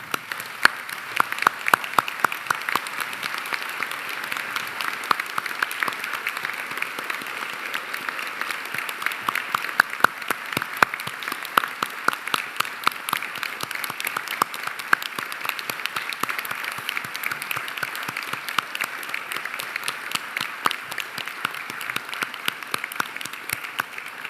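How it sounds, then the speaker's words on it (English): A large audience stands and applauds the graduates at the close of a University of Newcastle graduation ceremony in Australia, a sustained roar of clapping that stays loud and even for over twenty seconds. "I'd like everyone else to stand with me in applauding the wonderful achievements of these"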